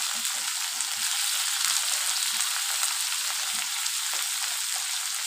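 Drumstick pieces and cut potatoes frying in oil in a pan, a steady close sizzle with faint soft stirring knocks underneath.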